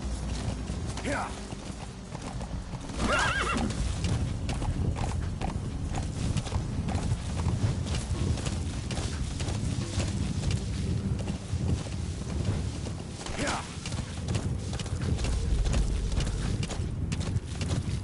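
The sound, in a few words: horse neighing and hooves, Metal Gear Solid V video game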